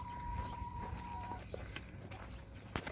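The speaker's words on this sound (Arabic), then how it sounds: "هذا دجاج بياض، مو دجاج نفس اللي صورتكم الفيديو الماضي" Laying hens on a family farm cluck softly in short, scattered calls, faint and somewhat distant over low background noise.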